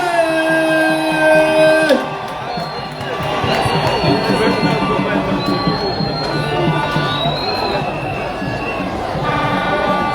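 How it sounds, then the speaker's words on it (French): Crowd at a political campaign rally in Mouila cheering and applauding for their candidate, a loud, roaring mix of shouts, clapping and chatter, with sustained tonal horn or whistle blasts at the start and later. "Applaudissements très fort pour notre candidat, s'il vous plaît."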